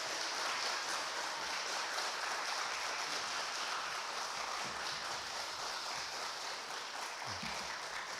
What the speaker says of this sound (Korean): 우리 박수로 목사님 환영하도록 하겠습니다.